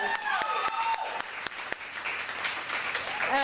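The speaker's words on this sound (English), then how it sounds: "Everybody give them another round of applause." Audience applause at a youth poetry slam, a broad wash of clapping with a few sharp, louder claps standing out, while a voice carries on over it throughout.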